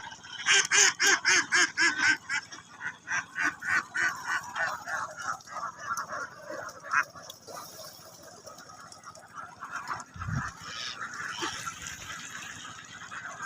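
A run of loud, rhythmic quacking and honking from farmed ducks, then softer scattered calls, with a low thump partway through.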